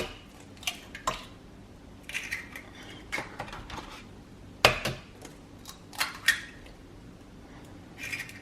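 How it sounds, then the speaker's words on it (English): Three eggs cracked one after another into a blender for a keto recipe: sharp, scattered shell cracks and light clinks against the jar over quiet room tone, with no one talking. "Cracking eggs is so satisfying."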